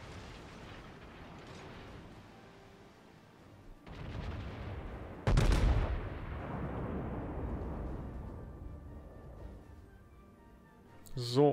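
The battleship Tirpitz fires gun salvos in the naval game World of Warships: a booming blast, then a louder, sharp salvo with a long rumbling tail, under ongoing talk.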